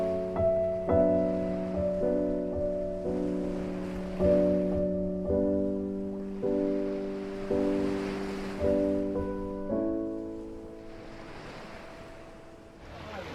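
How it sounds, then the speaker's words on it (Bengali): Gentle sea waves wash in at dawn on Mousuni Island in slow, repeating swells, with a steady tonal drone sustained over the surf throughout. "চারপাশে থাকে এক অপূর্ব শান্তি, শুধু শোনা যায় ঢেউয়ের মৃদু শব্দ আর এই সমুদ্রের নিঃশ্বাস"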